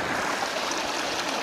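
A hot spring stream at Đam Rông rushes and burbles in a constant, full wash of flowing water close by, with no voices and no breaks.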